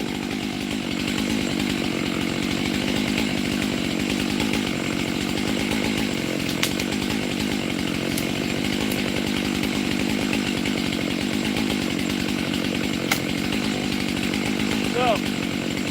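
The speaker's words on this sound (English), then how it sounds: "starting to cut, or starting to cut first, then I'll get my timber tool" A chainsaw cuts into the base of a tree with a loud, continuous buzzing drone at close range, holding steady throughout with a few faint knocks.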